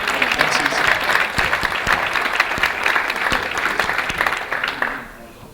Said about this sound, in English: let's give a round of applause for Suzanne and MCC.